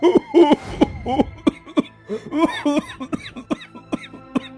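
A man coughs repeatedly in harsh, close bursts, the fits uneven and interspersed with strained throaty breaths.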